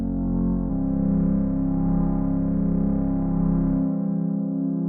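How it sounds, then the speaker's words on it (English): A sustained, buzzy hardware synthesizer tone with gritty distortion from a driven filter, its low end dropping away near the end. "that's going to affect the amount of distortion we're getting from my sound"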